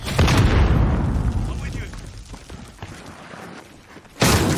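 A grenade explodes in Call of Duty Modern Warfare during a firefight: a loud, close boom opens with a long rumbling decay and debris noise, then a second heavy blast hits near the end.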